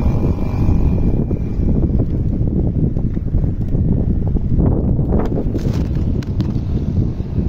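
Strong wind buffets the microphone in steady, rumbling gusts, loud and close throughout with no voices.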